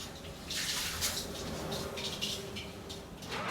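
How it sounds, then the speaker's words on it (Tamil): Water poured onto the heater in a sauna of a middle-class apartment building in Malaysia, bursting into several close, hissing splashes of steam that rise and fade over a low background hum. "இந்த மாதிரி தண்ணிலாம் ஊற்றினா இந்த இடம் கொஞ்சம் அப்படியே சூடாக ஆரம்பிக்கும்."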